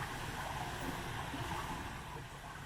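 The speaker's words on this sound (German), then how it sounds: "Das Wassergeplätscher, welches wir vernehmen, kommt vom Ruppenbach." Steady broadband rush of the Ruppenbach, a small Swiss mountain stream on a hiking trail toward the Schreizen waterfall, babbling continuously at close range with no talk over it.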